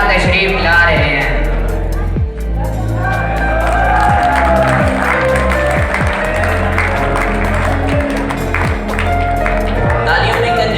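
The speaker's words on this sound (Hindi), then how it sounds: "तालियों में कंजूसी नहीं करनी आपने।" Audience at a school's tenth-anniversary function applauds steadily and loudly, with claps and some cheering over a booming bass-heavy music track.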